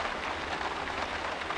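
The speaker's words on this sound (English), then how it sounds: "You can actually see the rain." Steady rain in the Silent Hill P.T. remake video game, a constant soft hiss of falling water with no distinct drops standing out, even and unbroken throughout, with no voices.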